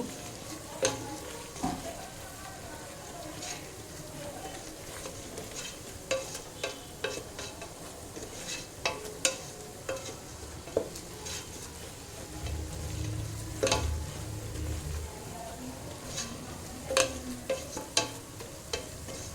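Rice for chicken sixty-five biryani being mixed with garam masala powder, a steady run of scraping and clinking stirring strokes against the pot over a soft background hiss, with a thicker stir near the end.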